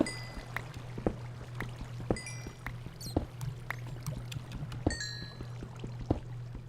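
Water sounds from a bucket in a blocky survival video game, a series of short bright splashes and clinks in a quiet cave with a constant low hum beneath.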